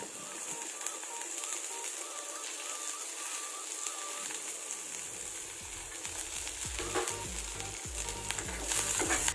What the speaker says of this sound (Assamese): অলপমান তেলত এইখিনি মই প্ৰথমতে ফ্ৰাই কৰি লম